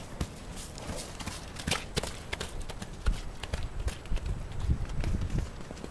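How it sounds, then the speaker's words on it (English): Donkeys run past on a cold, windy morning, their hooves clopping in quick irregular beats that grow louder toward the end, over steady outdoor wind noise. "there go the donkeys."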